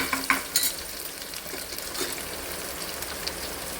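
Ginger-garlic paste frying in a pan while cooking a Telugu ponaganti greens dal, a steady sizzle with scraping stirs and clinks of a spoon against the pan.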